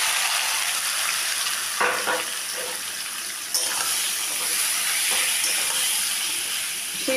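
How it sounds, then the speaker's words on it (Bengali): Marinated chicken sizzles in hot oil with whole garam masala, a steady, bright frying hiss running throughout, with a few sharper crackles and bursts as the meat settles into the pan. "তো তেল গরম করে নিয়েছি, দিয়ে দিলাম খানিকটা গোটা গরম মশলা, দিয়ে দিলাম মেখে রাখা মাংসটা"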